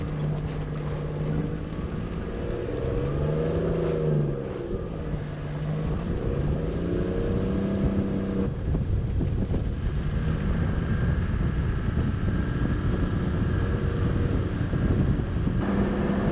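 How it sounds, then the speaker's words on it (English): A 4WD engine drones steadily and strains climbing a steep slope on the Mount Buggery Track, its pitch rising and falling as it labors, with constant wind buffeting and rumble throughout; no one speaks. "So you can hear from the engine that the slopes are very steep. It's working hard."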